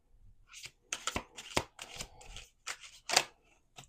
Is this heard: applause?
no